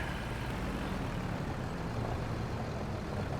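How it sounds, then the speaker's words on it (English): An old farm tractor engine runs steadily while reversing on a hillside, a continuous broadband rumble with no pauses, fairly loud and close. "Reverse is not this tractor's strong suit."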